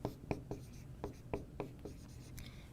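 Marker or chalk strokes on a classroom board while working out an absolute value inequality problem, a series of sharp taps and short scratchy strokes in an irregular rhythm, close and fairly quiet.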